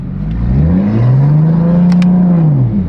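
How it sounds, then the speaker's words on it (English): A 900HP BMW M4 idles and then revs loudly close by in the snow, its deep engine drone swelling smoothly and holding for a few seconds. "The issue is this car is so loud that we might get in trouble."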